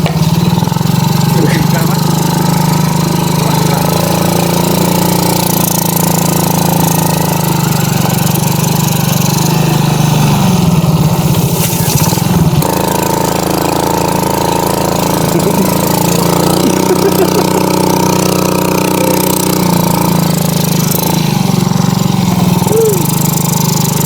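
A non-trail motorcycle engine labors steadily up a rocky hill track, loud and close for the whole stretch with a constant droning hum and a few rattling knocks, while a rider talks over it.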